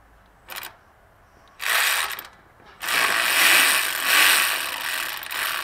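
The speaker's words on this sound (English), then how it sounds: "we're going to take off these 3 10 millimeter bolts right here" A ratchet with a swivel socket loosens 10 mm bolts on a Toyota Tacoma 4.0 V6 during a thermostat replacement, giving a short click, then two longer bursts of rapid ratcheting, close and clear.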